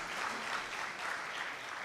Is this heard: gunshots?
no